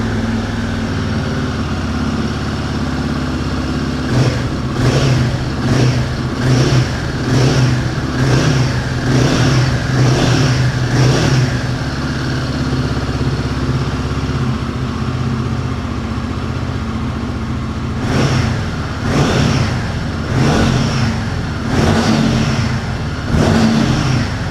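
A Royal Enfield Guerrilla 450 motorcycle fires up and settles into a deep idle, then takes a run of quick throttle blips, pauses, and revs again in a second burst, loud and close.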